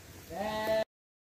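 A single sheep at a Wonosobo livestock center for Texel, Merino and crossbred sheep gives one clear, nasal bleat up close, wavering and then cut off abruptly, with no other voices.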